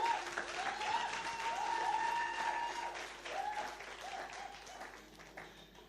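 A church congregation at a worship service claps together, a sustained burst of applause from a crowd in a reverberant hall that gradually thins toward the end, with a few faint voices underneath.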